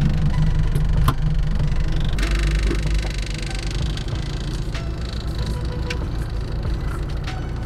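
A small, light four-cylinder car of about 50 horsepower pulls away on a rainy day, its engine note rising loud and close after a few clicks and clunks, then settling into a rough, steady drone.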